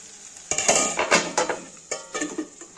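Several clattering metal knocks and scrapes as a lid goes onto a cooking pot of onion, garlic and tomato, with a faint sizzle beneath the close, uneven clanks.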